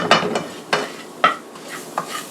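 Roux for a scratch gumbo stirred in a pot, a spoon scraping the bottom in repeated close strokes with a faint sizzle between them, no talking.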